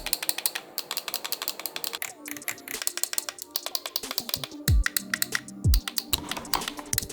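Buttons and dials on a Conspit sim racing wheel are pressed and turned in quick rapid sequences, producing crisp, close, tactile clicks with a few deeper thumps and short pauses between bursts, no talk.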